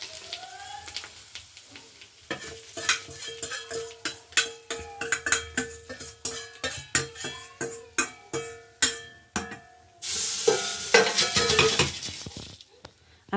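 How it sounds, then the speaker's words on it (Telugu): A spoon stirs tempering into tamarind rice (pulihora) in a metal vessel, giving a steady run of sharp clinks and scrapes, close and fairly loud, ending in a brief louder rustle of mixing. "ఇలా కలిపేసేసుకొని పోపు దీంట్లో వేసుకుంటాం."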